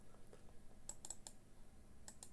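Sparse, faint clicks of typing on a computer keyboard while programming a Baofeng DR-1802 radio, a few quiet keystrokes scattered irregularly against a low background hum.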